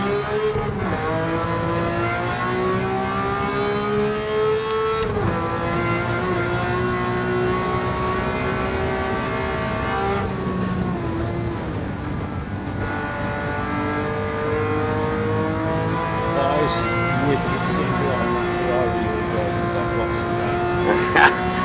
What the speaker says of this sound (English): it's skidding all over the road though, ain't it?